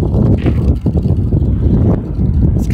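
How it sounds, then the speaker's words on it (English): Gusty wind buffets the microphone outdoors on a cold day at a farmers market and poultry swap in a Tractor Supply lot, a steady low rumbling roar with brief dips. "It's kind of cold and windy up here."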